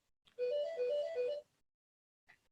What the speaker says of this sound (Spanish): Ahora me llama por teléfono, cosa que no voy a atender.